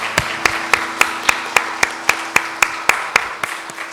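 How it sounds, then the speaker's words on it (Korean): Church congregation clapping at a Sunday worship service, about a dozen evenly spaced, crisp unison claps in a steady rhythm, moderately close over a faint low hum in the room. "이들을 위해서 한번 박수 한번 하겠습니다."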